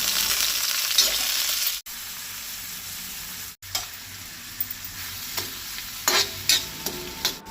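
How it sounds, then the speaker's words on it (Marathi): Sliced onion sautés in hot oil in a pan, a continuous close sizzle broken by two brief silent gaps, with scraping stirs and soft clinks of a spatula toward the end; no one speaks. "कांदो लायट ब्रावन जायसर परतूंक जाय."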